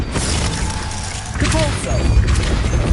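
The Accio summoning spell being cast in Hogwarts Legacy: a dense, rumbling mechanical whoosh with a clattering burst near the middle, swelling louder toward the end, with no speech.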